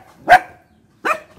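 A puppy gives two sharp, close barks about a second apart, with quiet between them.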